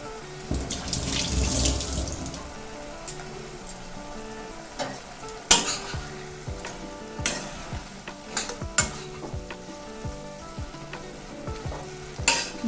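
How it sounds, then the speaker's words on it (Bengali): A spoon stirs grated coconut through a banana flower curry in a pan, producing a soft frying sizzle punctuated by irregular scraping and clattering strokes against the metal, close by and with no talking. "কুড়িয়ে রাখা নারকোল দিয়ে দিলাম এবার ভালো এবার ভালোভাবে মিশিয়ে নেবো"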